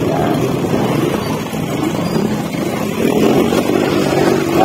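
A motorcycle rides along the C5 extension road near Merville, its engine and road noise forming a steady, close rumble that swells slightly toward the end, with no talk.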